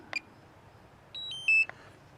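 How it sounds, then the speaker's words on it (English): Small drone emits a few short electronic beeps: one quick chirp, then a pair of steady tones and a closing blip, faint and isolated against near silence. "You can hear it beep, beep, beep,"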